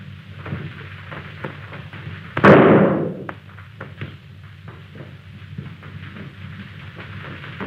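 A single gunshot in a 1930 western shootout cracks out as one sharp report with a short ringing tail, heard through the steady hiss and hum of an early sound-film recording.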